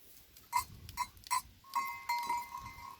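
Several short goat bleats in quick succession, then a longer wavering bleat, fairly close with faint background noise.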